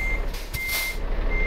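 A truck manoeuvres at night in Euro Truck Simulator 2, its reversing alarm beeping in a steady repeated pattern over a low engine idle, with a brief hiss partway through.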